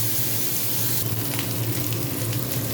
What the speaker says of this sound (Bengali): এই সবজিগুলো আমি দিয়ে দেবো